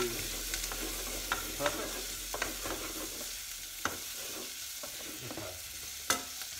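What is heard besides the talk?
onions, garlic and mince frying in a pan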